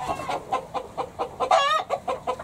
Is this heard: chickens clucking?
yes